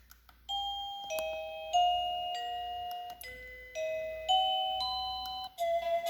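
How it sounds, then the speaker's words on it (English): A plug-in wall doorbell chime receiver plays a melodic tune, a sequence of clear electronic bell notes stepping up and down in pitch, each sustained and ringing alone at moderate volume. "going through the doorbell chimes that we got here on this doorbell thingy that you plug into the wall"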